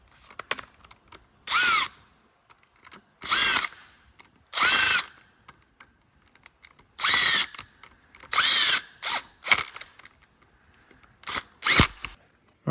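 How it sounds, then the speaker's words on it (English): An impact driver runs down small 8mm bolts while gaskets are resealed on a 1.6L 16V engine, firing in repeated loud hammering bursts of about a second each, separated by short pauses and faint clicks. "I just sucked them down with the impact"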